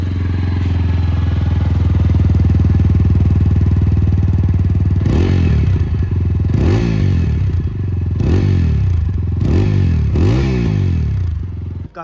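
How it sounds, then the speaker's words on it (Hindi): A TVS Apache 200 4V BS6 motorcycle idles with a loud, deep, steady exhaust drone, then gives four or five sharp throttle blips that rise and fall in quick succession. "Let's hear the exhaust note of the Apache 200 BS6"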